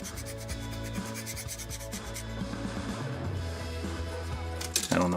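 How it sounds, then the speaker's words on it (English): A cheap metal file rasps steadily against a plastic model kit part, a continuous close scraping rub with repeated strokes over a low background hum. "Just use this cheap metal file that I got from a dollar store."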